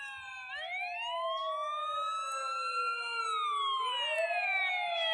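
Ambulance and fire engine sirens wail together in a flight simulator game as emergency vehicles attend an airliner after an in-flight failure, with overlapping rising and falling tones, loud and continuous.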